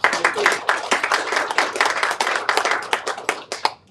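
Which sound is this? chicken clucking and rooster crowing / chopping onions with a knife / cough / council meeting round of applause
council meeting round of applause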